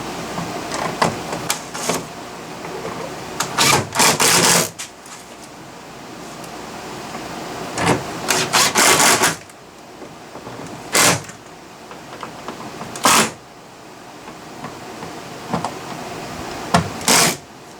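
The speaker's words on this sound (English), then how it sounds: "we'll take our drill, kind of tighten them a little bit till we get our other 2 screws in there" A power drill driving screws into a car door speaker on a 2010 Mazda 3 sedan, several loud, close whirring bursts of a second or two each, separated by quieter handling noise.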